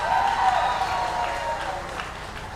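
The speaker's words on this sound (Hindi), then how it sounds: "हमारे सबसे वरिष्ठ लीडर श्री राम टेके जी का, जोरदार तालियां उनके लिए" Audience at a company's 17th anniversary event gives a steady round of clapping for a senior leader, a moderately loud, sustained applause that stays even and then eases slightly.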